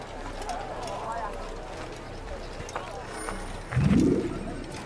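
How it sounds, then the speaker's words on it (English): Horse hooves clip-clop at a walking pace in Assassin's Creed, under some background ambience, with a louder thump and whoosh near the end. "just outside we've got some horses waiting for us"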